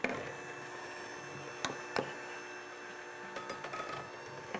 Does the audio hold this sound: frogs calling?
no